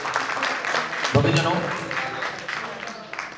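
An audience at a devotional jagran gathering claps loudly, a burst of clapping that swells under a man's spoken address and then tapers off.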